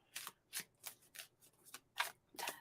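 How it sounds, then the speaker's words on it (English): Tarot cards being shuffled by hand, a series of quick papery riffles and flicks in irregular bursts, close and fairly soft, with no talking. "I feel like shuffling."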